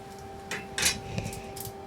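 Knife cutting the core out of a cabbage for Dutch-style keto coleslaw, a few brief, sharp crunching cuts and taps against a board over a quiet, humming kitchen background.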